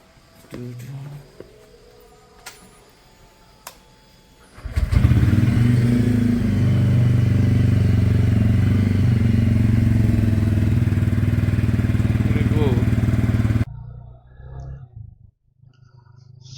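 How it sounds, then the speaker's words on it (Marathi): A TVS Ronin 225 motorcycle fires up after a few seconds of quiet, then runs at a loud, steady idle close by for about nine seconds before cutting off abruptly. "बाईक स्टार्ट करूया"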